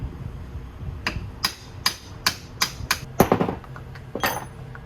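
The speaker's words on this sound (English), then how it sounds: "use a brass drift to drive the shaft out" About nine sharp metallic hammer blows ring out on a brass drift driving the shaft out of a Honda power steering pump, roughly evenly spaced, close and clear over a low background hum.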